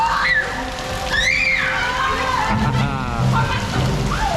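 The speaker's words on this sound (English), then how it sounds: "Into the the first tunnel with the water effect." Rushing, splashing water from a water effect in a boat ride tunnel at Phantasialand fills the space with a steady wash, while faint voices and squeals echo over it.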